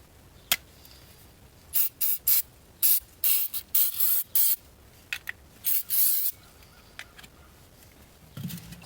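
A spray bottle of cleaner squirts in quick, close, repeated bursts over the engine of an International 1066 tractor during an oil change, with brief pauses between the sprays.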